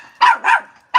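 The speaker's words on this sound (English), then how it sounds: "That's the neighbor's dog." A neighbor's dog barks three times in quick succession, sharp and close, with short gaps between barks.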